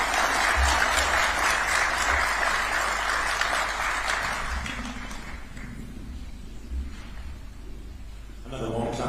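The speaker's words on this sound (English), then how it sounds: "Another warm clap for His Excellency." Warm applause for Kenya's president at a diplomatic corps address to heads of mission, loud dense clapping that gradually thins and fades, with a few murmured voices as it dies down.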